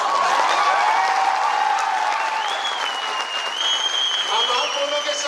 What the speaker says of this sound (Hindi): हमारी तालियों की आवाज है।